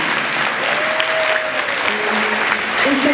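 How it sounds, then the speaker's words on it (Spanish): Audience applause at a symphony orchestra's school concert in Zapala, a steady dense clapping from a crowd with faint voices and a few whistles or cheers over it. "Y le damos un aplauso"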